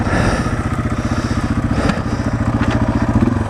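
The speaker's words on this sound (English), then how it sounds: "sounds like a pretty respectable dual sport, this little pipe" Yamaha TW200 dual sport motorcycle with an aftermarket exhaust pipe idling close by, a steady, loud, thumping single-cylinder pulse with a rapid regular beat that holds throughout.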